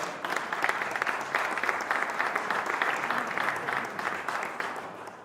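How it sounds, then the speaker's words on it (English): Sustained, dense applause from the audience at a chess tournament ceremony in Casablanca, a steady crackling roar of many hands clapping together, fairly close and without talk. "So please, a round of applause for Dana."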